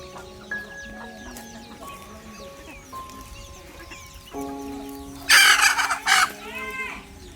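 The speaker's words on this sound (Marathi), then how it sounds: "एकदम गावठी कोंबडी तुम्हाला इथे भेटेल आणि एकदम ॲक्टिव्ह कोंबड्या" Free-range village chickens cluck and chatter close by, a rooster crowing loudly near the end, with a steady tonal hum running underneath.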